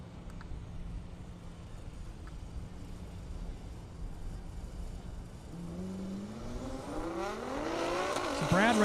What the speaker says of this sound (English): Brad Morgan coming up in that Charger Hellcat